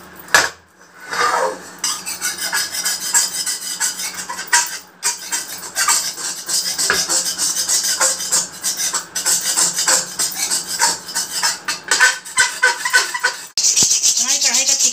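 A burnt, greasy iron kadhai is scrubbed clean while still hot, making continuous harsh rasping and scraping of metal close up. Short clanks break in now and then, and a brief voice is heard.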